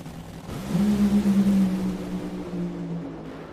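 NHRA drag racing cars of Hagan and Prock roar down the track, heard from a distance as a rising engine drone that swells then fades.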